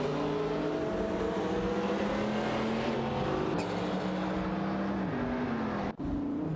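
Race cars in a video game, a Nissan Skyline GTR R33 dueling a Holden Commodore SSGRA, engines droning loud and continuous with pitch rising and falling through gear changes and a brief cut near the end.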